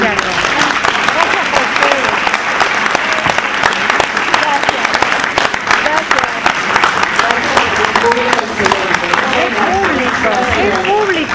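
A literary panel audience gives loud, sustained applause for the whole stretch, a dense even wash of clapping with voices audible underneath.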